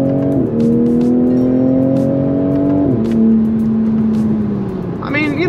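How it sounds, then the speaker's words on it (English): Engine of a 2020 Toyota Supra pulling hard at full throttle from inside the cabin, a loud droning note climbing steadily, dipping at a gear change, then rising again, with a brief voice near the end. "All right, that's full throttle."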